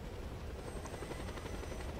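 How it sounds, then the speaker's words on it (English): A helicopter in the video game Just Cause 2 drones steadily, a constant, fairly faint rotor and engine hum with no speech. "Helicopter's gonna go down somewhere."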